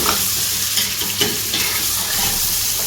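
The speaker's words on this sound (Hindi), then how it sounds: "तो 5 मिनट तक हम इसे भूनते हैं" Steady sizzling of spices frying in a hot pot for haddi guddi shorba, with scraping stirs throughout and no talking.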